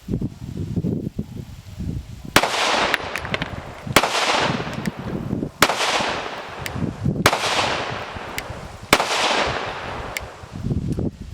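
Six loud, sharp gunshots from a Shadow Systems CR920 compensated concealed-carry pistol, fired at a steady pace about every second and a half, each with a cracking report and a ringing tail outdoors.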